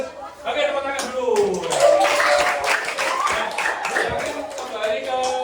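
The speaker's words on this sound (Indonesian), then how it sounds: "Oke, tepuk tangan dulu." A group of children claps hands during a gymnastics warm-up class, producing a dense, fast patter of claps under lively chatter and voices throughout.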